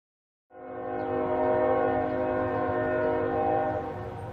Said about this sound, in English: to the sound of the everlasting trains of Riverdale